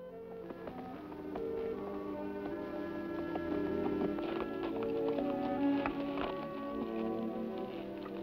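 Rhythmic clip-clop of a galloping horse's hooves pounding along with music playing underneath, steady and fairly loud, in a radio drama.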